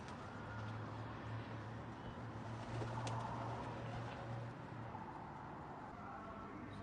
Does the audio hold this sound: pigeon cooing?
yes